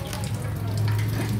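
Water is poured over parts of a TVS Apache RR 310 motorcycle while coolant is being changed, a close, steady trickling and splashing with a low hum underneath, lasting briefly.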